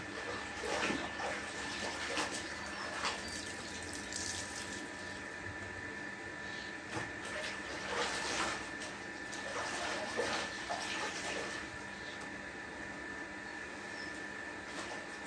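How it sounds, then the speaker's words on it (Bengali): Tap water runs continuously as things are rinsed and washed underneath it, with soft irregular splashes and handling noises, fairly faint and close. "এখন ধুয়ে দিব।"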